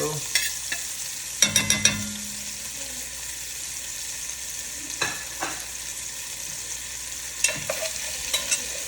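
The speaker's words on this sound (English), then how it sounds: "the carrots, the celery, the peppers, and the garlic. Dump that all in there like so." Chopped carrots, celery, peppers, onions and garlic sizzling in oil in a soup pot for chicken cabbage soup, a steady close hiss broken by a few clattering stirs and scrapes of a utensil, no voices.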